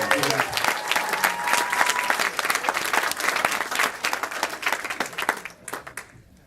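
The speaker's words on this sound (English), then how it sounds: "everybody give a big round of applause for Marcus Parker." A comedy club audience at Punchline gives a comedian a big, sustained round of applause, dense clapping filling the room before it tapers off at the end.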